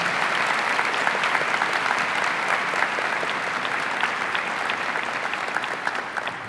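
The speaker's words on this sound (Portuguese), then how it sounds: "vamos aplaudir nosso Senhor por esses dons, por esses carismas" A church congregation applauds steadily for several seconds, a dense, even wash of clapping from many hands filling the room without letup.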